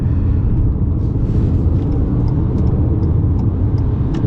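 Inside a Ford Maverick XL hybrid accelerating onto a freeway, a loud, continuous low engine and road rumble fills the cabin with no break.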